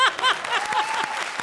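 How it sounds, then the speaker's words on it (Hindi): Audience applause at a live comedy show, a brief burst of dense, lively clapping heard up close with a few whoops mixed in. "एक बार जोरदार तालियां"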